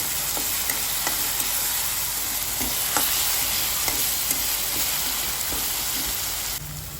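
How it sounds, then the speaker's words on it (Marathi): Green chili paste fries in hot oil with a steady, loud sizzle, while a spoon clicks and scrapes against the pan every second or so. There is no talking. "मस्त असं तेलामध्ये भाजून घेऊया छान."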